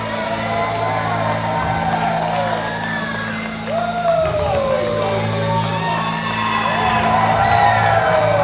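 A wrestling crowd at a Superstars of Wrestling event in Port City roars and whoops in support of Matt Connors, with loud, sustained cheering and scattered yells throughout, dense and close.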